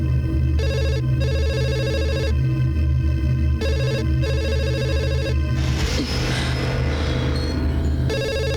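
A telephone ringtone plays in repeated electronic bursts with short gaps, loud and close, then gives way to mixed background noise near the end.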